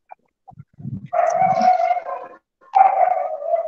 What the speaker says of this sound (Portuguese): E o cachorro está aí fazendo a festa.